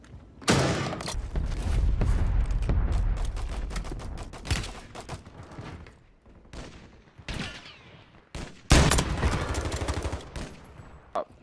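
Video game gunfire cracks out in rapid bursts and single shots, clustered volleys separated by brief pauses, loud and punchy.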